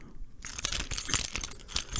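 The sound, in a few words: keys jangling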